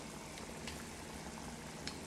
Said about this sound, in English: right now I got the water boiling, which is fantastic